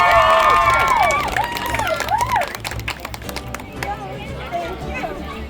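Spectators at a Renaissance faire costume contest cheer and whoop loudly at first, then settle into sustained clapping with scattered shouts and overlapping voices.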